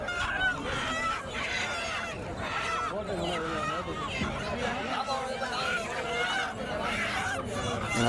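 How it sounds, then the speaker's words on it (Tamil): Dense poultry clucking and honking squawks fill a busy livestock market in Mukkudal, with steady crowd chatter and voices mixed throughout at a constant, loud level. "இது பூராமே கோழி நண்பர்களே"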